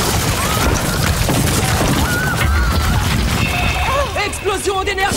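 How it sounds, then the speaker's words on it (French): Cartoon plasma energy explosion attack, a loud continuous rumbling blast with crashing impacts and whooshing, warbling energy tones rising over it, dense and close throughout. "Explosion d'énergie plasma!"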